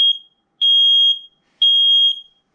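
Nest Protect smoke alarm sounding during a test, three loud piercing high-pitched beeps in a steady rhythm, each held about half a second with short gaps of silence between.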